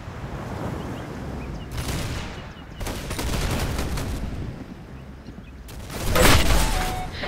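Gunfire in the Roblox Arsenal video game: rapid automatic bursts crackling in several clusters, the last one loudest, with a low background rumble between volleys.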